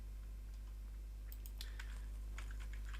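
Quiet keystrokes click on a computer keyboard in a short burst, with a low steady hum underneath.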